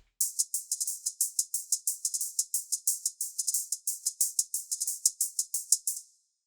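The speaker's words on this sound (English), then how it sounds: "I layered it with this open hat sample they gave us to make this hi-hat loop." A busy hi-hat loop of rapid, crisp closed-hat ticks layered with an open-hat sample, giving occasional longer sizzles, repeating steadily for several seconds and then stopping.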